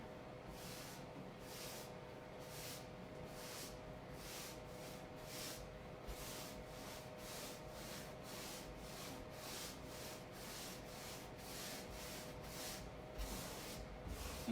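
A cloth rubs white wax onto a wooden furniture surface in long, regular strokes, each a soft brushing swish repeating about twice a second, quiet and close with no talking.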